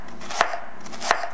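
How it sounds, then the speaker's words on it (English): A knife chops peeled ginger root on a cutting board for arroz chaufa, two sharp, distinct strikes about a second apart over quiet kitchen background. "After peeling, we're gonna dice it or chop it really small."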